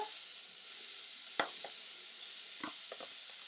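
Lardons frying in a pan give a soft, steady sizzle, with a few light scrapes and clicks as they are stirred.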